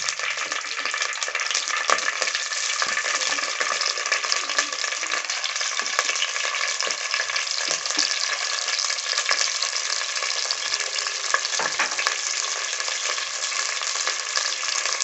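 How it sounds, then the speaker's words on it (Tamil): Prawns fry in hot oil for a prawn curry, giving a loud, close, unbroken sizzle that holds steady throughout, with no voices. "இப்போ இதில் இறாலை போட்டு வறுத்துடலாம்."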